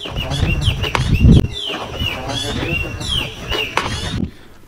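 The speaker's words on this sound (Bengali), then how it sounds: "পাখি অনেক সুন্দর তাল মিলিয়ে ডেকেছে" Bird calls ring out in repeated chirping bursts over a noisy outdoor scene near a railway line, with people moving and talking in the background.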